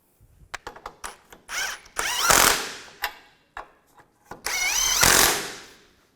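A power tool snugs down nuts on the suspension of a 2007-2013 Mini Cooper during inner ball joint replacement, in two sustained whirring bursts with short clicks and knocks between them.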